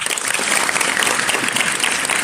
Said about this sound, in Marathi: मग आता स्वतःसाठी सुद्धा टाळ्या वाजवा.